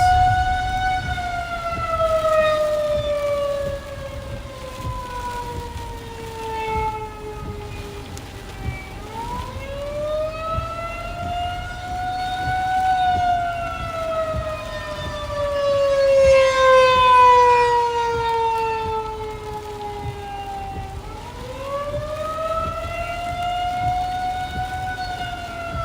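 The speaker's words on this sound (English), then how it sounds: "I don't know why the sirens are going off." Outdoor civil defense warning sirens sound during a tornado and wind threat around Detroit, with a long rising and falling wail that repeats in slow cycles. The sound is loud and sustained and is heard alone, with no talking.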